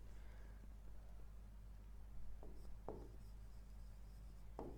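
Pen or chalk writing notes during an engineering lecture on machine design keys, with soft scratchy strokes and a few sharper taps over a steady low hum, fairly faint and without talk.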